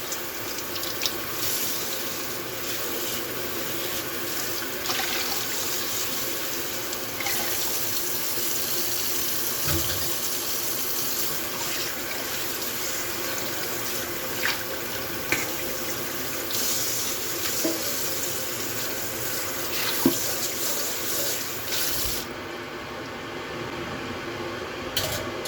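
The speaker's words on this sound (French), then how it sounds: "Et ensuite on vient rincer." Pet food bowls rinsed under a running kitchen tap, a steady close splash of water hitting the bowls and sink throughout, with small clinks and shifts of flow as the bowls are turned.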